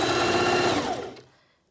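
A sewing machine runs at a steady, close hum while stitching a fabric face mask with elastic, then stops abruptly and falls quiet.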